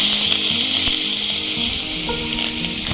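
Onions sizzle in hot mustard oil tempered with dried red chilli and mustard seeds, a loud, continuous frying hiss with faint stirring while cooking a tilapia fish curry with olives.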